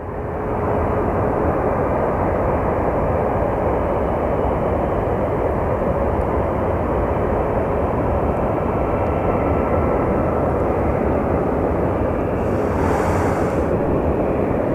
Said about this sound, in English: And we finish it off with a random Air Canada coming in, probably another hockey charter.